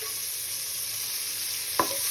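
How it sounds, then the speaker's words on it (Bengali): Chopped onions fry in a pan for an egg and potato curry, giving a soft, steady sizzle heard alone, with one sharp clink of a utensil near the end. "এবার ভাজতে থাকি।"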